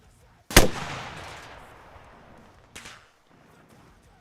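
A rocket launcher fires in Arma Reforger: one loud, sharp blast followed by a long rushing decay, then a fainter distant thud a couple of seconds later.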